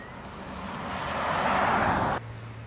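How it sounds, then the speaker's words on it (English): A BYD Tang EV600 electric SUV, floored, gives off an artificial jet-like whoosh that swells steadily louder for about two seconds, then cuts off abruptly, leaving a low hum. "when you floor it, it makes artificial airplane sound out of nowhere."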